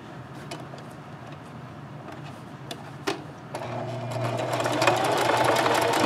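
A sewing machine runs in steady stitching bursts while a scrub cap is sewn in white thread from fat-quarter fabric, the motor whir building louder and denser toward the end, with a couple of sharp clicks midway and no talk.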